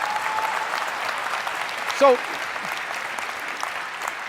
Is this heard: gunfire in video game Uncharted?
no